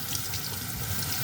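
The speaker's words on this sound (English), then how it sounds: "you place it under some running water" Tap water runs steadily over a de-stemmed artichoke with its tip cut off under the faucet, a close, even rushing splash that fills the whole moment without any talk.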